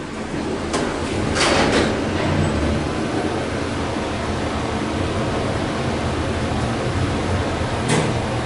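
A traction elevator door at Civic Center BART Station in San Francisco slides shut, giving a brief swooshing rush and clack early on and another click near the end, all over a steady background hum.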